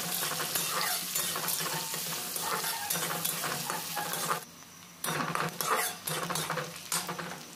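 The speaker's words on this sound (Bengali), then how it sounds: "পেঁয়াজটা এখানে হালকা ভেজে নিতে হবে।" Chopped onion sizzles in hot oil in a pan with whole cumin while being stirred, a loud continuous frying hiss broken by scraping spatula strokes and a brief dip near the middle.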